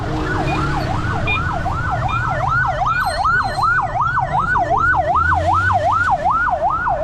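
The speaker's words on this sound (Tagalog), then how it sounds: "Ay, pulis siya yun." A police siren wails in a fast, steady up-and-down cycle, loud and close, over low street and traffic noise, with no talk during it.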